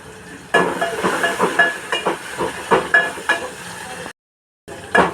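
Small tomato pieces and asafoetida hit hot oil with a loud hissing sizzle, rising in bursts and spatters, briefly cutting out before resuming.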